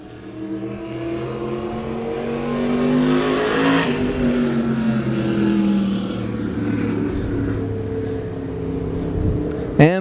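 A race car at Claremont Motorsports Park takes its victory lap, its engine droning loudly and steadily with pitch rising and falling as it circles the track.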